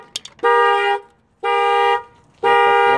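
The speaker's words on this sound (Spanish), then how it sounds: "ya se me puso la alarma" A 2011 Nissan Altima 2.5 alarm goes off during fender and headlight repair, sounding three loud, sustained horn blasts of about half a second each, evenly spaced with short gaps between them.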